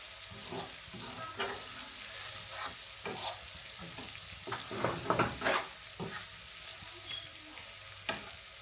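Paneer sizzling and frying in hot oil, with steady crackle and occasional stirring bursts up close, no voices over it.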